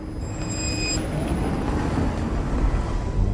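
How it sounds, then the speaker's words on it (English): An electric car pulling away from a standstill gives a steady, moderate whir with a faint high tone at the start, set against a broad low rumble of road and cabin noise. "You do get that futuristic whirring sound as you pull away."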